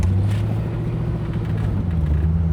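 A 1950 Ford Custom Convertible engine idles with a low, steady rumble, heard close with some wind buffeting the microphone throughout.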